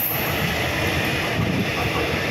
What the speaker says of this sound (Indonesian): kereta feeder dari stasiun kereta cepat Padalarang